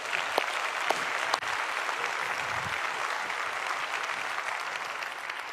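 A large audience at a county government address gives a sustained round of applause. The clapping forms a dense, even wash at moderate distance, with a couple of sharper claps standing out near the start.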